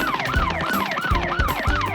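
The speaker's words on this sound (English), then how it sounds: "Oh no! Police car!" A cartoon police car siren wails in fast, repeating rising and falling whoops. It is loud and alone, over a bouncy music bed.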